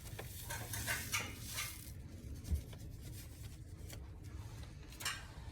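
A spoon stirs coffee in a container to dissolve it into a homemade vintage stain, making faint scraping swirls and occasional light clinks against the sides, close but quiet.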